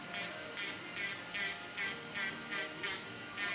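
Electric nail drill removing gel nail capsules, a faint steady whirring buzz with rhythmic hissing bursts as the bit is worked across the nail, roughly two passes per second.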